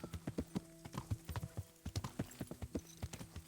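A horse gallops in the medieval video game Kingdom Come: Deliverance, with rapid, rhythmic hoof clip-clops repeating steadily throughout, quiet and close without any talk over it.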